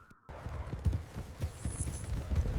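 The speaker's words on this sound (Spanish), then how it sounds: "de pronto escuchas un sonido que te hiela la sangre, cascos de caballos acercándose a toda velocidad" Horse hooves clip-clop in a quick, uneven rhythm, moderately loud and fairly close, with a faint high whinny-like tone midway and no talk.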